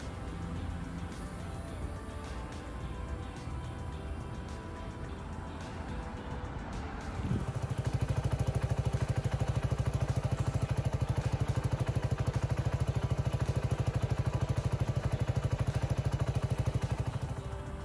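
Suzuki Burgman 400 scooter fitted with an aftermarket exhaust, first a quieter idle and then a loud, steady, close engine drone from about seven seconds on, with no talking.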